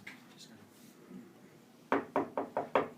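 Five quick, evenly spaced knocks rap on a big box, close and crisp after a stretch of faint background noise.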